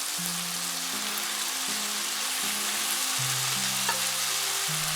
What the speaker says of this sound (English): Add the green beans and the red pepper. Stir for 1 minute. Add the rice.